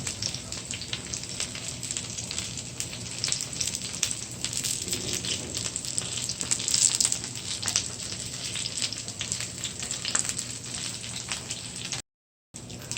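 Tamarind fritters frying in hot oil, a dense continuous crackling sizzle heard up close with scattered pops, steady throughout apart from a brief dropout near the end.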